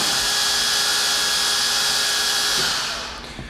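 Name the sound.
Conquest 23-spindle construction drill line boring machine gearbox running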